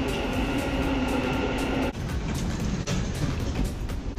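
Dubai Metro train, heard as a steady loud rumble of a moving carriage with a shift in tone partway through, no voices present.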